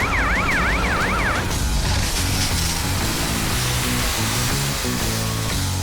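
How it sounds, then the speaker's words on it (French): Wailing fire engine siren sweeping up and down, loud and close at the start, then cutting out and giving way to a heavy rumble of engine and traffic noise. "Pelle, monte voir si les pompiers arrivent"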